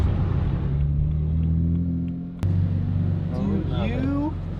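A single-turbo BMW 335i with a T51R turbo mod holds a loud, steady engine drone that drops briefly midway and then carries on under a voice.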